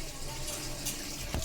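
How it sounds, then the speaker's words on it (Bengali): Tangra fish rinsed under running water, a short close splash and gush of tap water over the fish, fairly quiet and steady with a brief louder swish near the end. "ট্যাংরা মাছ ধুয়ে নিতেছে"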